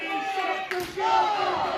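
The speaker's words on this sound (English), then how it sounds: "Crowd's calling for one more" A wrestling crowd at an indoor independent show roars and chants together, calling for one more chop, with a brief sharp slap-like hit partway through and the noise swelling afterward.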